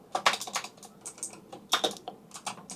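Quick bursts of typing on a computer keyboard while a file name is entered, close clicking keystrokes in short irregular runs.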